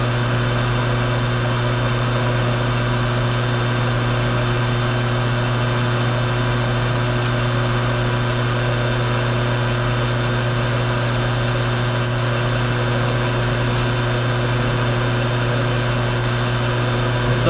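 Drilling on a lathe with a letter U drill bit while making large diameter material rollers, a steady loud machine drone with strong low hum running continuously throughout, no pauses.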